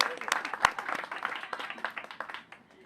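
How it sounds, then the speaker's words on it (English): A room of people applauds the Director of Nursing during a governor's tour of a vaccination clinic at FutureCare NorthPoint, a short spell of moderate, uneven clapping with a few sharp claps that tapers off quickly. "Give her a big round of applause."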